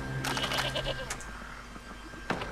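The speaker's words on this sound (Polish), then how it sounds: "Koza." Goat bleats in the Far Cry 2 video game, a few short wavering calls clustered early then a brief one near the end, moderately faint over steady low game ambience.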